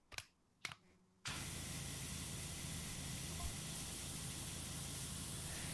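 Two quick clicks, then a sudden steady roar of spray from a power washer with a lighter nozzle in PowerWash Simulator, a loud continuous hiss holding evenly to the end.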